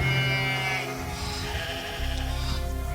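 Sheep bleat clearly several times, close and fairly loud, in a staged nativity skit scene with shepherds in a field.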